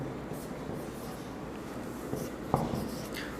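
A plus sign is written on a board during a math lesson, with soft scratching strokes and a brief sharper tap near the end, faint against room noise.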